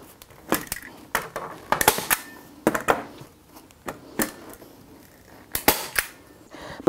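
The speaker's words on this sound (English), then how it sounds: "Put one staple there." A staple gun fires sharp, loud snaps, some in quick pairs, scattered over several seconds as fabric is stapled onto a thrifted piece of furniture being reupholstered, with faint handling noise between shots.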